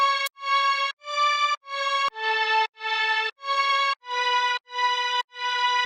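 A layered future bass lead melody plays in short, evenly spaced bright notes from a string sound, a piano and two synth leads blended together, loud and steady with no voices.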